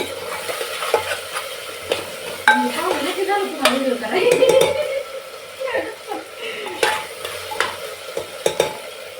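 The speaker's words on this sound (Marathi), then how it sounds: "ह्याला मस्त असं भाजून घ्यायचंय छान असं भाजून घ्यायचं" Onion and vegetables roasting in a pan for khichdi, with soft sizzling and irregular scraping stirs of a utensil against the pan, close and moderately loud, with some voices in the background.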